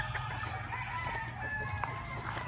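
Boston Roundhead pullets and hens on a farm cluck and call nearby, a steady layered chatter of clucks with a few sharper high notes over a low rumble.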